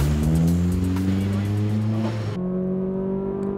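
A Honda Fit or Suzuki Swift engine drones loudly from inside the car at Tsukuba circuit, a steady harmonic hum that shifts pitch abruptly partway through.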